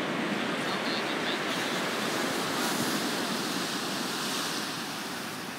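Surf washes onto a wide, shallow beach at Danang at night, a continuous broadband hiss of waves with some wind, steady and fairly soft, no one speaking.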